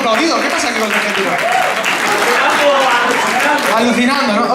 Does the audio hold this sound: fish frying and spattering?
no